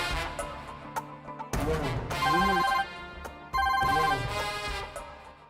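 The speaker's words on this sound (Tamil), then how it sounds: "இந்த சங்கீதாக்கு ஃபோன் பண்ணலாம்." A phone rings as a call is placed in a Tamil TV serial scene: two loud bursts of a tonal ringtone, separated by short gaps and fading between rings.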